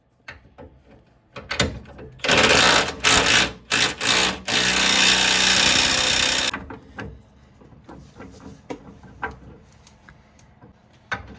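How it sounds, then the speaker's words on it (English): An electric drill whirs loudly for about four seconds in several bursts, with clicks and handling noises before and after, while fitting adjustable torsion bar keys on a Dodge Durango or Dakota. "Now back to this drill."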